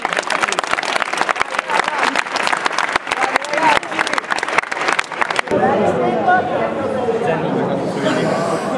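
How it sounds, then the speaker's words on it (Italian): Applause and cheering from the crowd for the finalists at a vertical dance competition final, dense sharp claps for about five seconds, then a shift to louder mixed crowd chatter and shouting with voices talking. "Applausi ai finalisti!"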